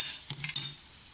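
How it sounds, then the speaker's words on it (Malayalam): A steady sizzle of grated coconut frying in a pan, with a couple of soft scraping stirs partway through. "ഇനി ഇതിനകത്തോട്ടൊരു ഇത്തിരി തേങ്ങ വറുത്തിങ്ങെടുക്കാം."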